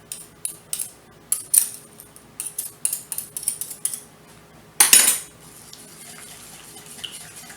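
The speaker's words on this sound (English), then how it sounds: "This is where we get to use our whisk." A whisk beating custard for blueberry custard pie in a bowl, giving quick, close, rhythmic metallic clinks in short bursts, then one louder clatter followed by a faint steady hiss.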